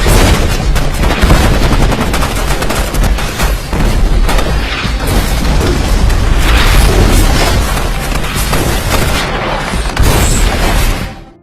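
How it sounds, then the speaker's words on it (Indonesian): Dense, loud gunfire and booming blasts fill a film battle between rebels and soldiers, with rapid volleys and machine-gun bursts layered over heavy explosions throughout. "Hingga akhirnya terjadilah pertempuran antara para pemberontak dengan pasukan Letnan Waters."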